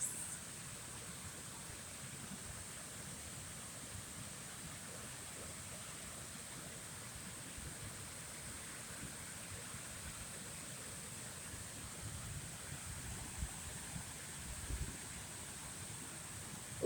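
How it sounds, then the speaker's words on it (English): Water runs continuously at a waterfall, a faint, even rushing hiss that holds steady the whole time with only small swells, heard alone without voices. "Listening to the water running is so beautiful, and it's helping you to release and let go."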